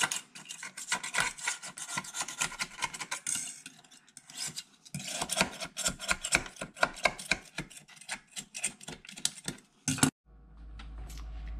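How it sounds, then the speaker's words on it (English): Old caulk is scraped off a surface in rapid, close, rasping strokes that come in uneven bursts with short pauses, then stop near the end; no talking. "Now that we have removed our caulk and scraped all of the excess caulk off"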